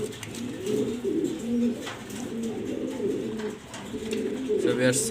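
A pair of black-and-white Chuital Gorra pigeons coo close by in a repeating rolling rhythm, their soft throaty calls rising and falling over a faint background of other bird sounds.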